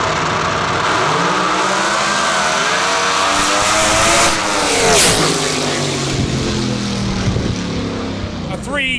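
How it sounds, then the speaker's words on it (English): The Tommy Yeomans Racing Camaro drag car called Elvira launches during qualifying at Lights Out 17. A loud, close engine roars and sweeps through revs as it pulls away, with an announcer talking over it. "Lyle Barnett driving the Tommy Yeomans Racing Camaro called Elvira."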